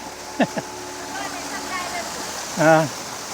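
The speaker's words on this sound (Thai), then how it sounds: "เดี๋ยวถ่ายน้ำตกก่อนครับ วัดน้องหูลิง มีน้ำตกจำลอง" Water rushes and splashes in a steady, continuous wash, with brief bits of nearby talking over it.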